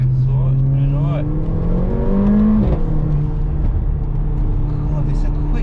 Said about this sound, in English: God, it's a quick little car